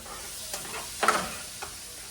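Sausages cooking in a pan for a Southern brunch give a soft, steady sizzle, with a few brief stirring or scraping bursts standing out near the middle, fairly faint and with no talk over them.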